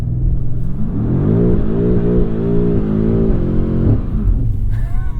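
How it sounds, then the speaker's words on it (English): A 2021 BMW M5 in rear-wheel-drive mode launches into a burnout: a loud, close engine roar climbs through the revs with a harsh, steady rasp, then falls away near the end. "this is just rear wheel drive launching"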